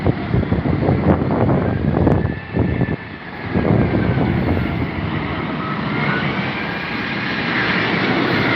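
An Emirates airliner on approach to London Heathrow roars loudly and continuously overhead, with broad engine rumble, wind buffeting on the microphone and a rising whine near the end.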